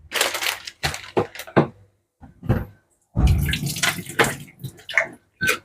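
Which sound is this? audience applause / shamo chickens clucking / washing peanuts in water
washing peanuts in water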